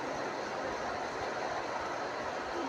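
Quiet background ambience at Mohali railway station near Chandigarh, a faint steady wash of rumble and distant traffic-like noise with no clear train pass or announcements, no voices standing out.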